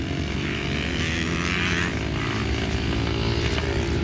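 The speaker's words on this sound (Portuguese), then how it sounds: "O pessoal já fervendo as motos antes de entrar na pista aqui" Flat track motorcycles, including a Harley, idling and revving before going onto the track at Interlagos, a steady loud engine drone with no speech.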